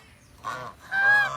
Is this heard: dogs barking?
no